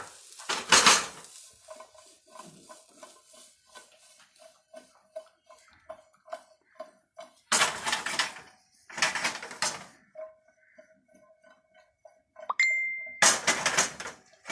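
Vegetables, including blanched carrot and boiled potatoes, tossed in a pan: several loud bursts of clattering metal and rattling food, with softer scrapes and clinks between them and no talk.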